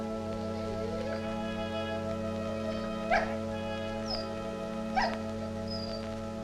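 A dog in a 1946 film noir whimpers and gives a few short, high yips over a constant low hum, with thin whines scattered across several seconds and no speech.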